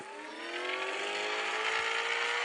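A video game car engine revs steadily upward, its whine rising in pitch and loudness over a couple of seconds, with no talking.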